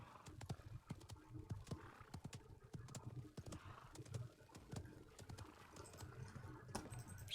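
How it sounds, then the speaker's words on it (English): Horse hooves clop in rapid, irregular beats in the Paladins video game, repeated across the whole stretch at fairly close range with game ambience and no speech. "A fine horse."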